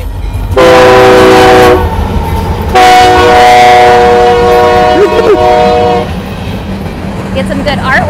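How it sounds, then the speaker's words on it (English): A train passes close by and sounds two long, loud horn blasts over a heavy rolling rumble, with people talking briefly in the background. "There's the train."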